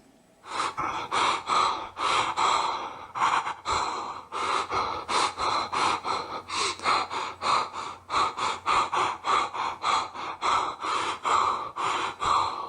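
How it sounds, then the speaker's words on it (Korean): Heavy, rapid panting breaths follow one another in a steady rhythm, loud and close, like someone running hard and gasping for air. "느닷없이 거친 숨소리가 들리며 한 사람이 달려옵니다"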